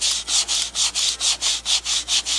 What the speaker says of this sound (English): you're going to turn it 90 degrees and you're going to sand some more